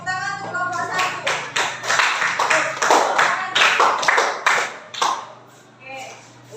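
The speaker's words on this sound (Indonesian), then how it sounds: "tepuk tangan untuk kelompok 1" A classroom of students claps for a group presentation, bursts of hand clapping rising and falling over several seconds, with some voices mixed in.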